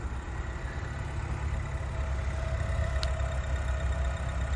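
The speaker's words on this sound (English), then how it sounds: "Nice quiet powertrain." A 2024 Lincoln Nautilus Black Label SUV engine idles quietly and steadily, a low, even rumble with no revving and no voices.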